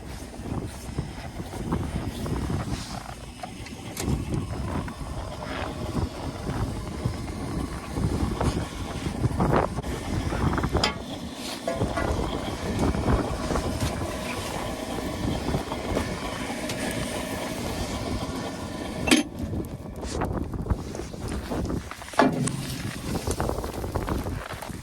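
Blizzard wind in a winter storm, blowing as a steady, loud broadband roar with swelling gusts and buffeting across the whole stretch.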